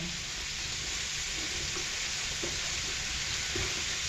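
Onion and garlic frying in a pan for shrimp adobo, a steady close sizzle with faint stirring clicks throughout, no talk.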